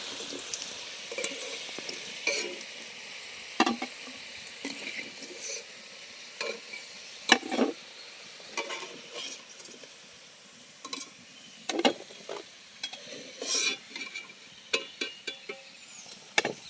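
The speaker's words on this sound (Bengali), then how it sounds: "বাকিগুলো একই রকম করে ভেজে নেব।" Potato snacks frying in a pan, soft steady sizzle broken by scattered sharp pops and clinks of a utensil, close and fairly quiet, no voices.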